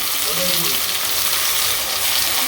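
Steady frying sizzle of food in hot oil in a wok, a continuous crackling hiss close by with faint clinks underneath.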